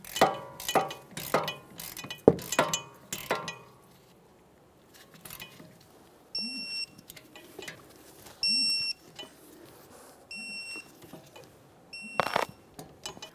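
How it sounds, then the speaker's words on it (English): A torque wrench clicks on the wheel hub bolts of a 2014–2018 Mazda 3 during a rear wheel bearing replacement, with rapid ratcheting clicks, then a quiet stretch and scattered metallic clinks, close by. "Now I've got my torque wrench."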